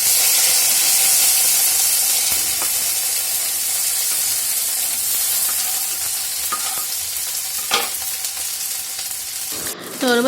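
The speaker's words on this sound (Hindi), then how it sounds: "इसमें बिल्कुल मैं सिंपल नमक, हल्दी और हरी मिर्च के साथ जो है इसे फ्राई करके बनाती हूँ।" Okra fries with salt, turmeric and green chilli in a hot pan, a loud continuous sizzle with occasional stirring scrapes and clinks near the end, close up, no talking.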